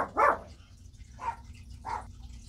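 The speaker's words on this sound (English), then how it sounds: "My dog's going nuts." A pet dog barks indoors, one loud sharp bark followed by two softer ones, evenly spaced over a low background hum, with no talking.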